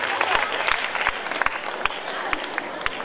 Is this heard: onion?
no